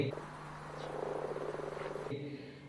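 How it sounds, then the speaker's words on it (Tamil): Frogs croak in a quick pulsing chorus, soft and close, over low background hum. "தவளை கத்தும் சத்தம் கேட்குதே"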